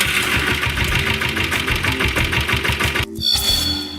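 A motorcycle said to start by its owner's voice command runs loudly up close with a fast, even mechanical beat, then stops sharply and is followed by a short burst of other tonal sound.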